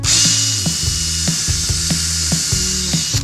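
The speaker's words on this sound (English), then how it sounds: "We're actually just gonna pre-drill right through here." A power drill pre-drills straight through a wooden block into a board beneath, its motor whirring steadily while the bit chatters and catches in quick, rhythmic bursts, loud and close with no talking.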